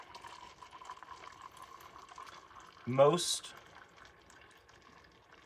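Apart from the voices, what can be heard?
hot water poured into a paper coffee cup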